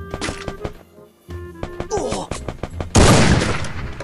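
Video-game gunfire in Free Fire, with bursts of shots fired at the player, sharp cracks and a dense volley near the end, under intermittent voice and game sounds.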